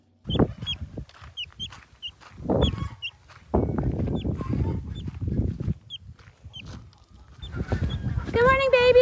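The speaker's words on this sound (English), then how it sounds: "That duck is out again." Ducks and other farm fowl call in a barn, with repeated clucks and honks near and far, while a person talks over them.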